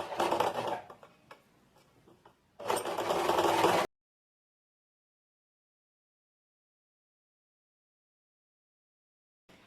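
A sewing machine hems the sleeve of a short-sleeve shirt close to the fold, running in two loud stretches with a pause between them, then cutting off into silence.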